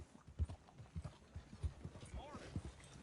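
Horse hooves clip-clop at a steady, quiet trot while riding in the video game Red Dead Redemption II, with a brief faint creak of tack mixed in.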